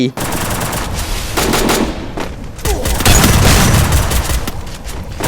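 Rapid bursts of automatic gunfire and heavy booms from a Free Fire match crackle loud and close, with excited voices now and then beneath the shooting.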